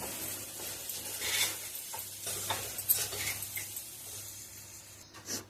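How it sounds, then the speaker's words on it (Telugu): Cooked rice being stirred and mixed into a lemon rice tempering in a pan, with soft scraping and light sizzling in continuous bursts, close and moderately loud, no voices. "రైస్ యాడ్ చేసేసుకున్నాక మొత్తం అంతా కలిపేసుకోవాలి."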